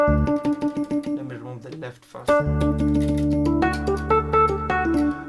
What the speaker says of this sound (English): This is the sound of the electric piano alone.